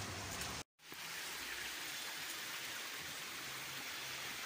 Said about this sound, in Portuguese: aqui está correndo a sair água aqui